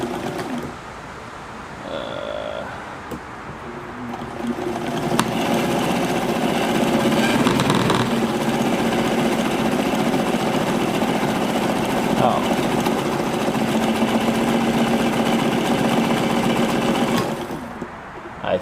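A vintage Necchi BU sewing machine runs a zigzag stitch at maximum width and short stitch length, a steady mechanical whir and hum close up that starts, holds for over ten seconds, then stops.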